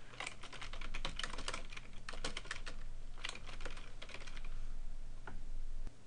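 Someone types a title on a computer keyboard, a close steady patter of key clicks in quick runs with brief pauses, alone without speech.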